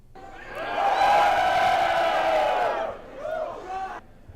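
A large crowd lined up in a shopping mall for the Mass Effect 3 game release lets out a loud, close, sustained collective roar of cheering, which breaks off and is followed by a shorter burst of whoops.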